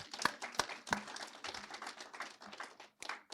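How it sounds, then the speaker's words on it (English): Scattered, fairly faint hand claps from a small conference audience patter unevenly for a few seconds. "Can you clap for Canada?"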